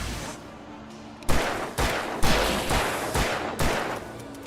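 Gunfire in the Alan Wake video game: a burst of about six loud, sharp shots fired at a steady rhythm, close and dominant, with no talk over them.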